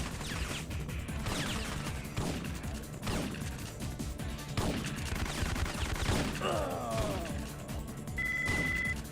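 Rapid gunfire in the PS1 shooter Syphon Filter, bursts of shots and impacts layered over dense game music and effects, loud and continuous from start to finish.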